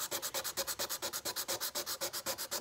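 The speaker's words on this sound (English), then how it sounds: "so we're going to sand this off" Sandpaper rubbed by hand over an embossed tin sheet to strip paint, a steady rhythmic back-and-forth scratching of about two strokes per second, close and alone.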